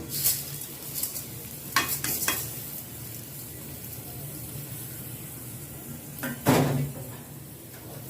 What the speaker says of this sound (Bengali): এখন এর মধ্যে আমি 3 পা পোলার চাল ঢেলে দিব।